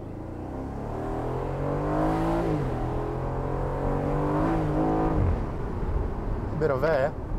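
An Aston Martin Vantage F1 Edition, the F1 safety car with a tuned engine, revs and accelerates through rising gear pulls with brief shifts between them, loud and steady, with a voice talking over it near the end.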